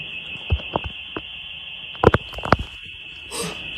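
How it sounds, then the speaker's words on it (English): A house alarm sounds as a steady, piercing electronic tone held throughout, with scattered knocks and thumps and a brief breathy noise near the end underneath it. "their house alarm suddenly goes off"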